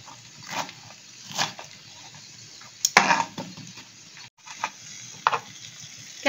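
Thinly sliced capsicum frying in a pan for paneer do pyaza, with a steady close sizzle, several stirring scrapes, and a sharp clatter near the middle. No one speaks.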